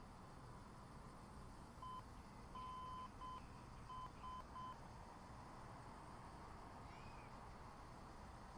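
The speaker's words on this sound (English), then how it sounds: "So that's the ADF beeping. I think you could probably hear that." ADF beeping in a Beechcraft V35 Bonanza in Microsoft Flight Simulator, a faint series of short, evenly spaced tones over a steady background hum, with a last quieter chirp near the end.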